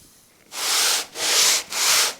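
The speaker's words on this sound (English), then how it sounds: "I'm going to make sure it's flat by just rubbing it up and down on a flat piece of sandpaper," Carved wood is rubbed up and down on a flat sheet of sandpaper, making three close, loud, hissing sanding strokes in steady rhythm after a brief quiet start, with no voices.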